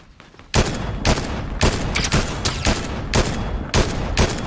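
Fortnite gunfire: a series of loud, close single shots at a fairly even pace, about one every half second, each a sharp crack over faint background.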